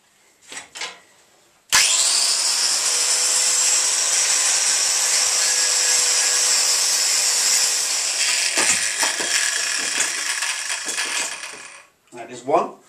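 A power tool grinds chrome off steel tow hitch brackets in a garage, a loud sustained abrasive whine running for about ten seconds after a few faint knocks, then cutting off before brief clatter.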